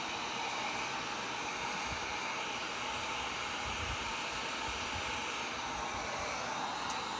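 A heat gun blowing hot air over a silicone sheet, a constant loud rushing whoosh that holds steady throughout, close by and alone with no talking.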